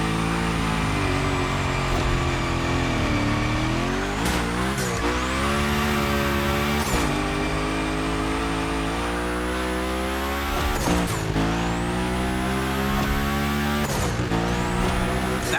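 A car drifting in a gymkhana event in The Crew Motorfest, its engine roaring loud and steady with revs rising and falling as tires squeal and slide through repeated turns.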